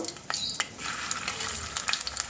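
Kohlrabi koftas fry together in hot oil with a dense, crackling sizzle and occasional sharp pops, close and steady throughout.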